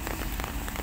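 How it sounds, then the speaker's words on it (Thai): Steady rain falls on a construction site, a dense, even hiss of drops close by with no voices over it. "ท่ามกลางสายฝนแล้วครับโปรยปลายลงมา"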